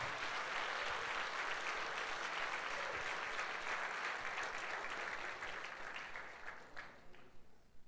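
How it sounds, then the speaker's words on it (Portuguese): A church congregation claps for Jesus in a full, sustained burst of applause that holds steady, then thins and fades toward the end. "Então dá um aplauso a Jesus."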